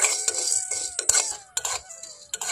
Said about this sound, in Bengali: লবঙ্গগুলোকে এইভাবে মিডিয়াম আঁচ করে হালকা নাড়াচাড়া করে ভেজে নিতে হবে